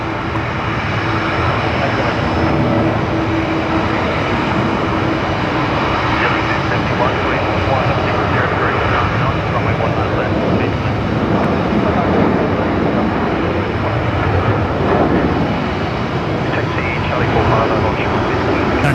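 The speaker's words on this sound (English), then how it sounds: "That's Velocity 978 heading off to Sydney tonight here off runway 19 left." Velocity 978, an airliner, departs runway 19 left at Brisbane Airport at night, its engines a loud, steady roar throughout while people talk over it.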